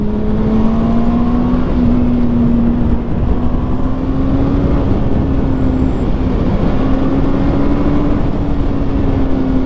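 A 2011 Honda CBR600RR motorcycle engine roars steadily through a wet ride, a loud continuous drone that holds a sustained pitch and rises slightly at times, close and with no talk over it.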